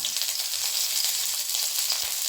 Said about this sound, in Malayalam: അതിലേക്ക് കുറച്ച് എണ്ണ ഒഴിച്ചതിന് ശേഷം 2-3 കറിവേപ്പില തണ്ട് വെക്കുക.